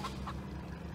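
Chickens cluck in the farming video game Farm Together 2, a short, quiet burst of fowl calls over a low background hum.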